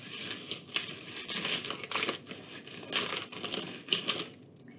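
Gritty, crunchy scraping in short irregular bursts as a toy truck's small wheels roll through dry cornmeal, fairly quiet and close.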